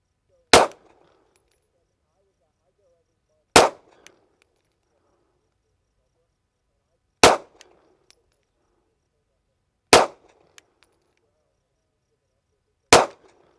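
Five sharp, loud 9mm pistol shots of Blazer brass ammunition, fired from a red-dot-equipped handgun at 15 yards, ring out one at a time every three seconds or so, with quiet gaps between them.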